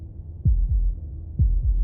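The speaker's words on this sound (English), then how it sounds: "That was the sound of a heartbeat" Heartbeat sound effect in the video game Slay the Princess: deep, booming double thumps, two heartbeats about a second apart, loud and close with a low hum between them.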